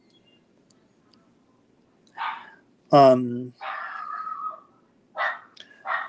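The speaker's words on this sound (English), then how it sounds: "and there goes my yipping dog again." A small dog yips and barks in a handful of short, sharp bursts close by, with a brief pause between calls, while a person murmurs nearby.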